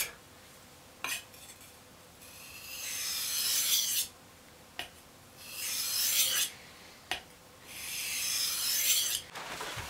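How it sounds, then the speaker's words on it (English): A knife with a chisel bevel is drawn across a fine 800 grit whetstone in several long rasping passes, each a few seconds long with short pauses between strokes, close and clear with no talking. "I'm just going to use a very fine grit 800 whetstone here. So we're going to just quickly do a few passes."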